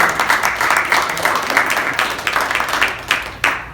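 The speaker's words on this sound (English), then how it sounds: "Round of applause." A small audience applauding at a speaking event, steady scattered clapping throughout with a few louder individual claps near the end.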